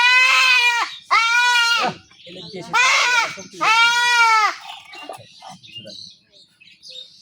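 A goat bleats loudly four times in drawn-out, wavering cries close by, followed by quieter rustling and faint background noise.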